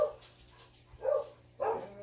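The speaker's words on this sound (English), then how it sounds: "Oh, there they go barking." Neighbours' dogs barking in the distance outside a mobile home, three fairly faint, separate barks spaced about half a second apart.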